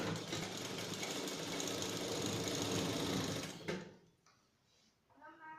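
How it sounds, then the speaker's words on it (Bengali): A sewing machine runs steadily while stitching along the edge of a frock, a continuous close whirring that stops abruptly partway through, leaving quiet room sounds behind. "একদম এই ধার বরাবর থেকে সেলাই দেব কিছুটা ছেড়ে ধার বরাবর থেকে সেলাই দিচ্ছি"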